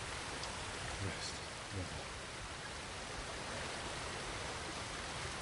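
Steady broadband hiss of rain falling outdoors at night, even and continuous with a couple of faint soft knocks, no voices over it.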